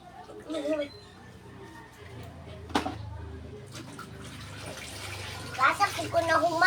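Clothes being washed by hand in water with soap at home, with sloshing and splashing water, near and moderately loud, mostly under people talking.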